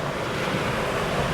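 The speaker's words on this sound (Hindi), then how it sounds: "नदी का बहाव देख रहे हो" A rushing river at a confluence of two streams in a Himalayan canyon in Uttarakhand makes a loud, steady broadband roar with no pauses, mixed with wind buffeting the microphone.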